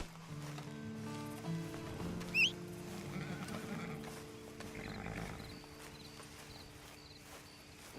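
A horse snorts and shuffles amid a steady soundtrack from the game Red Dead Online, with a brief sharp whinny-like cry rising over the background music.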